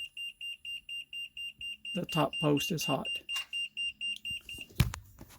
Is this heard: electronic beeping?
yes